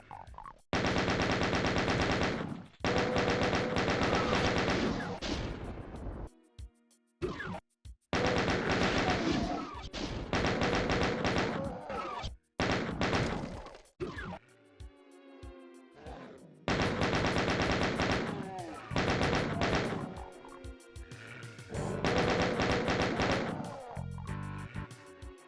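Chaingunner gunfire in a chaotic Doom mod video game: long bursts of rapid automatic fire, loud and dense, broken by short gaps and a few single shots.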